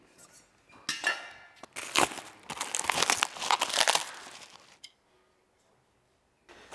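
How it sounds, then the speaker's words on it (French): Plastic packaging crinkles and tears close up as a large Porsche 911 intake component is unwrapped, a busy burst of rustling for about four seconds before going quiet, then a brief rustle returns. "On déballe la deuxième grosse pièce de l'admission."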